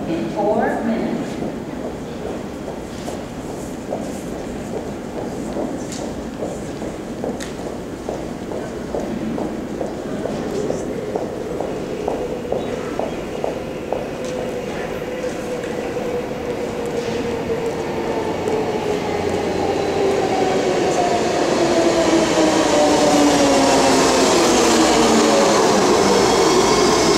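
A 10-car BART train arrives at Embarcadero station, clattering in with rhythmic wheel clicks over rail joints, growing louder and ending in a rising whine and screech as it approaches.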